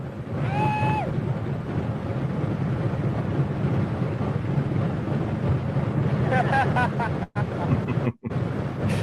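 The four piston engines of the B-29 bomber Kee Bird run together in a steady, heavy drone with wind-buffeted roar, loud and continuous, briefly cutting out twice near the end.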